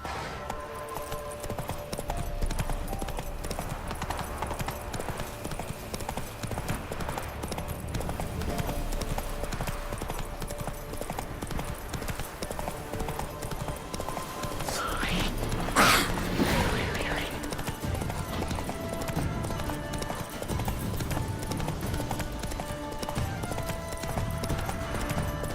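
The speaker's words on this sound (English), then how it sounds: "Run, Roach" Hooves of a horse galloping in The Witcher 3 pound in a continuous fast clip-clop rhythm across the whole stretch, layered with game music and effects and a brief burst of louder noise midway.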